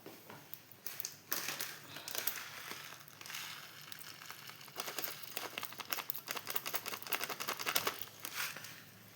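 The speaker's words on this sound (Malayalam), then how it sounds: "ഇനി നമുക്ക് കടുവ് ഇട്ട് കൊടുക്കാം" Mustard seeds splutter in hot coconut oil in a pan while a jackfruit-seed stir-fry is made: dense, rapid, close crackling pops in irregular bursts that grow busier toward the end, with no talking.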